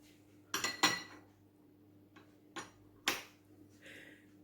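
A spoon clinks and taps against a bowl while dry ingredients and salt are mixed for chocolate-filled beignets, with a few sharp, separate knocks in a quiet room.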